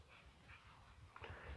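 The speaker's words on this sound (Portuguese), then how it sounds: "Cachorrinho tá aqui" A small dog whimpers softly with faint little yips, quiet and close, with no voices.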